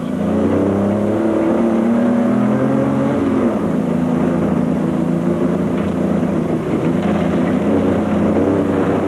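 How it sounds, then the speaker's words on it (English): Toyota race cars in the Carnival City 400, a dense, loud, sustained engine roar with shifting pitches as several cars pass close and rev through the field. "Johan Gerber was next to fall victim to the charging Toyota pair"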